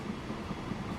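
A train running at about 76 in the railway simulation game Transport Fever 2 gives a steady low rumble with a faint rhythmic pulse, heard briefly and alone.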